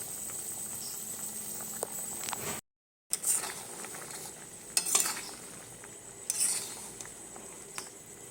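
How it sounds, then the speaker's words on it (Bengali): Vegetables sizzle in a pan on a gas stove with a steady frying hiss as a utensil scrapes and stirs. After a short silent break, louder scraping bursts follow. "তো রাতে আজকে একটু সবজি বানাচ্ছি"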